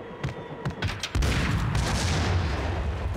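Grenade blast from the video game Max Payne 1: a few scattered gunshot-like pops, then a loud explosion erupts about a second in and rolls on as a sustained roaring rumble, with no talking over it.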